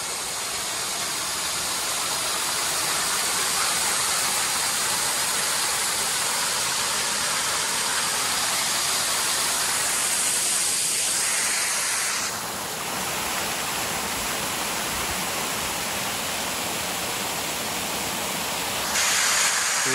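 Steady, loud rushing roar of the high waterfall on the Inganna river, a continuous broadband wash of falling water heard close with no talk.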